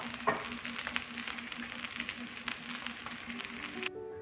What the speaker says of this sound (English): Let's mix it around and let's add the green onions